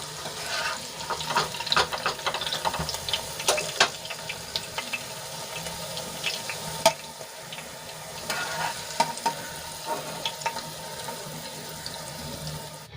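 Eggplant pieces sizzle steadily in oil while being stirred, a constant crackling fry broken by sharp scraping clicks of a utensil against the pan, close and fairly loud with no talking.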